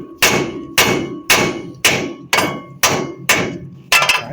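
A hammer strikes a ball joint on a Ford E-Series van eight times in a steady rhythm, each sharp metallic tap ringing briefly before the next.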